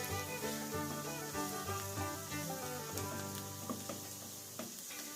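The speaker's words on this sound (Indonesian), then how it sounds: "saya akan mulai menumis. Bawang putih cincang saya masukkan terlebih dahulu." Minced garlic sautés in a pan as the base for a homemade spaghetti bolognese sauce, giving a close, continuous sizzle with occasional stirring scrapes.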